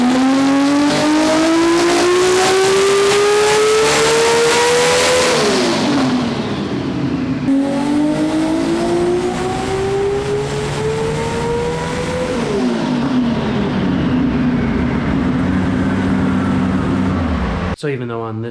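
A nitro drag race car running a 106 mm turbo and tuned by Chris Delgado screams down the strip, its loud engine pitch climbing and dropping through successive gear shifts before fading as it pulls away.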